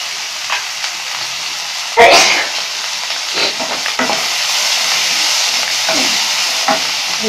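Cauliflower manchurian mixture with capsicum sautéing in a pan, a steady close sizzle and hiss with occasional stirring scrapes, a sharp burst of frying around two seconds in, no talking.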